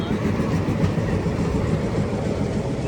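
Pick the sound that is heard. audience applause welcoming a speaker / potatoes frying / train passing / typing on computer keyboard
train passing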